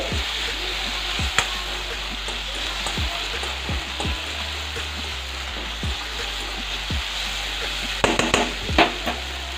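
Oil sizzles continuously in a pan as vegetables are stir-fried with turmeric, salt and chilli, with sharp scraping clicks from a spoon stirring at irregular intervals, close and steady.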